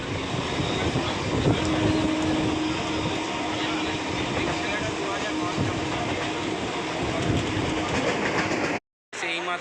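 A train rumbles steadily along the tracks arriving at Howrah, a broad continuous roar with faint rhythmic clatter, loud and close throughout before cutting out briefly near the end.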